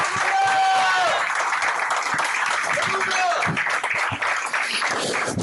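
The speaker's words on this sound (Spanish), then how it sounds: "Dale un aplauso al Rey" A church congregation applauds with steady, sustained clapping, while a few voices call out over it.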